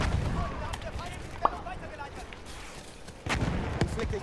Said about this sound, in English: Enemy coordinates have been sent to our artillery.